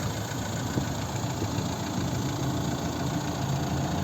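A 2013 Renault Megane III with a 1.6 dCi 130 hp diesel engine idles steadily nearby, a low even rumble with a faint clattering knock and no voices.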